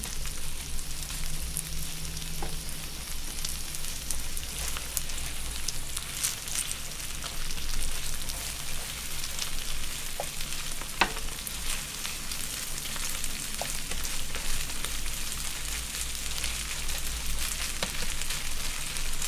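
Chicken neck pieces sizzling on a grill with butter and mushrooms added, a steady close frying crackle and hiss running throughout with occasional small pops, no talking.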